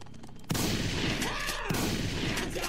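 A single loud rifle shot in the Family Guy video game cracks out sharply and is followed by a long, dense rumbling roar with a second burst of blast noise partway through.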